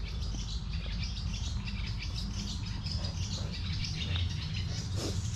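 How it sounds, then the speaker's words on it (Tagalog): Birds chirp and tweet continuously in the background, thin high calls layered over a steady low rumble of ambient noise. "Naririnig yung ibon."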